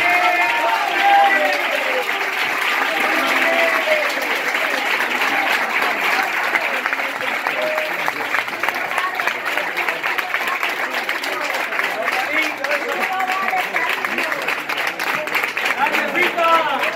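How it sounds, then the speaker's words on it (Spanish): A concert crowd at a Spanish-language show claps loudly and continuously for the full stretch, a thick steady roar of applause with cheering and shouting voices mixed in throughout. "Quiero que le recibáis un fuerte aplauso para Loli."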